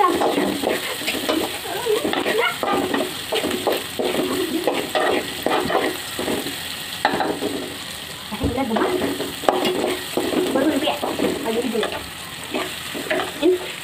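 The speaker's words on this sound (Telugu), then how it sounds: "పక్కనే దాన్ని కలుపుకుంటూ ఉందాం" Borugulu (puffed rice) upma being stirred in a pan on the stove, with steady close-up scraping and stirring over a continuous bed of sizzling.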